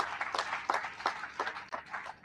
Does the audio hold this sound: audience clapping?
yes